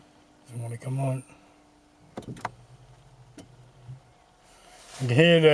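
A few sharp clicks and a short rattling burst from a car engine failing to start, with a low hum in between, framed by voices talking before and after.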